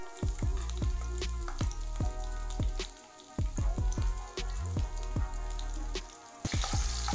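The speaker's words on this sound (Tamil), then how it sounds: "பச்சை மிளகாய் கொஞ்சம் வதங்கிட்டோன்னே" Green chillies fry in a pan with oil while an ostrich egg omelette is cooked, giving steady sizzling broken by many sharp crackles and spits, close and fairly loud with no talking.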